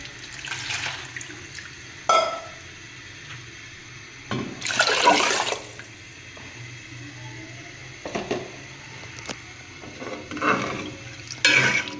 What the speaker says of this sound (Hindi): थोड़ा सा पानी और लगाएंगे।